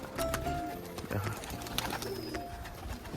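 A crested pigeon coos softly during its courtship display, a few low rounded calls close by at moderate volume, with faint background noise and a brief voice.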